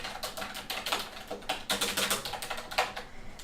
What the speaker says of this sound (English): And then this is my keyboard.